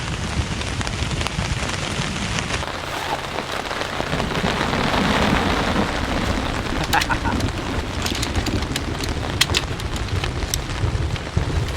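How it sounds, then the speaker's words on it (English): Heavy rain drums steadily on a camp shelter during a thunderstorm overhead, a dense, continuous wash with brief sharper spatters toward the end, loud and close, with no speech over it. "Oh yeah, the thunderstorm, it's on top of us right now."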